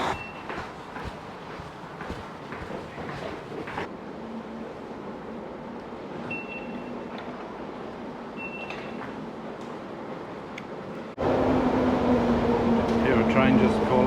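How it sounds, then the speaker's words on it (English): A London Underground train on the Bakerloo line pulls into Warwick Avenue station, a steady rumbling roar with brief squeals that surges much louder near the end as the train arrives, under occasional talk. "Train just pulling into the station."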